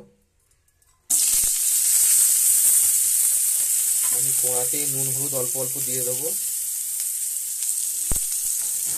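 Sliced bitter gourd frying in hot oil in a wok, a loud steady sizzle that bursts in abruptly and continues throughout, with someone talking over it briefly.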